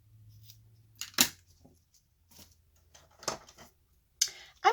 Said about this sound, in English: I got some paper snips. I want that Merry Christmas. So I'm going to cut it off.